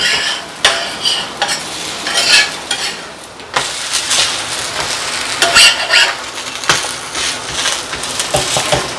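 Adai batter crisping on a cast iron pan over a medium flame with asafoetida, giving a steady close sizzle broken by scraping and spatula stirring knocks.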